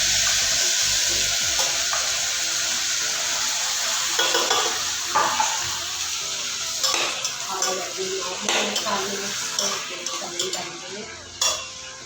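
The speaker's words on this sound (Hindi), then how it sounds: "अब इसको अच्छे से स्टर फ्राई कर लेते हैं। तो ये प्याज अच्छे से भून रहे हैं" Onions stir-fried in a pan, a bright, loud, steady sizzle with intermittent scrapes and knocks of a spatula growing busier toward the end, close up.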